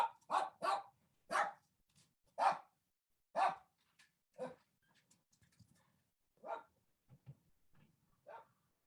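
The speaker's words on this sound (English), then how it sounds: "you hear my little dog" A little dog barks in sharp, loud bursts, a quick run of yaps up close followed by sparser, softer barks and a low whimpering growl between them, with no talk.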